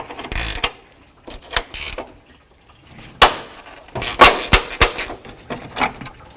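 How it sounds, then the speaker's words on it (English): A 10 mm wrench works a bolt on the radiator fan shroud of a 1984–2001 Jeep Cherokee, giving a run of sharp metallic ratcheting clicks and knocks, close and fairly loud, in irregular clusters. "I'm going to loosen up this bolt first"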